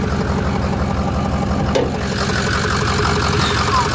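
A flatbed truck engine idles roughly with a misfire, a steady low uneven chugging with irregular knocks; a voice speaks briefly over it near the middle.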